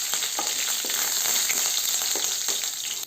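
Dried red chillies and curry leaves frying in hot oil, giving a continuous bright sizzle with small crackling pops, steady and close, with no voices.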